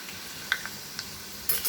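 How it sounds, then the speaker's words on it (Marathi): Onion sautéing in very hot oil in a pan, a soft steady sizzle with a few faint clicks and light scraping, quiet and close, no talking. "गॅसच्या आत मोठी ठेवूनच कांदा परतून घ्यायचा तेल पण कडकडीत असं गरम करायचं"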